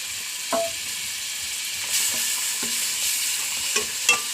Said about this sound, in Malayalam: വാടി വന്നപ്പോൾ തക്കാളി ഇടുന്നു